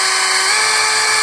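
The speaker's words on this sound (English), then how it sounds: "Just drill a hole right in the corner" Power drill boring a hole in a corner, a steady high-pitched whine held at constant speed, loud and close, with no talk.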